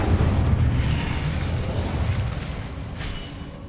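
A fire spell cast in the fantasy game Hogwarts Legacy gives a loud, sustained roaring burst that stays heavy and rumbling throughout, fading only slightly, with no talking.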